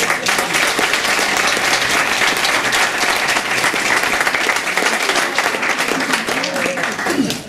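Sustained, loud applause from a crowd at a town hall for an elderly couple renewing their wedding vows at a golden, diamond or platinum anniversary, dense and steady throughout.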